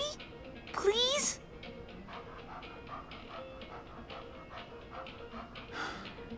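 A stray puppy in the video game Life is Strange 2 gives a brief yelp near the start, then soft whimpers and panting follow under a voice and other speech.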